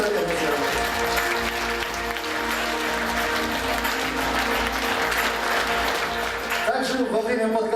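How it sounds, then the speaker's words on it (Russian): Audience applause fills the hall at a festival throat-singing concert, loud dense clapping sustained evenly throughout, with crowd noise beneath and a host's voice rising at the close. "Аплодисменты, дорогие друзья."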